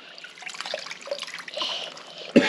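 Water trickling and splashing in a bath or tub, a close, light dribbling flow with small splashes, ending in one sharper splash.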